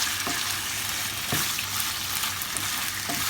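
Chicken pieces fry in a pan for cheesy chicken fajitas, a dense, steady sizzle filling the whole stretch with a few soft spatula taps at regular intervals and no talk.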